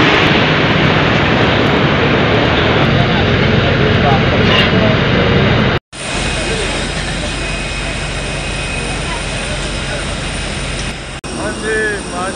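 A jet airliner's engines roar loudly and continuously at an airport at night, a close, steady whine and rumble cut briefly by a gap, with a voice faintly heard near the end.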